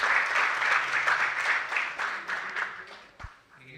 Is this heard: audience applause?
yes